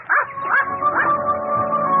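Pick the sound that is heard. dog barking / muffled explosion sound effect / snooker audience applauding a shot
dog barking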